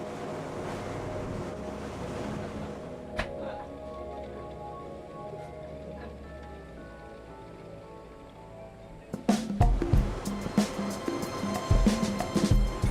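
Boat sailing north along the coast of Corsica, with a steady wash of wind and sea noise and low engine hum, then louder splashing and buffeting toward the end.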